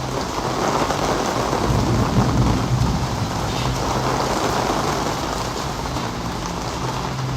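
Heavy rain falls outdoors in a constant, loud wash of drops striking surfaces, with a deep low rumble beneath the hiss and no voices over it.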